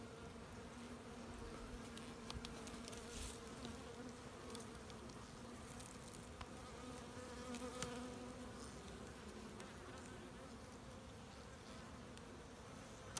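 Honeybees hum and buzz steadily in a dense, droning swarm at an open hive of pure Caucasian bees in Macahel, Artvin, with individual insects darting past close by.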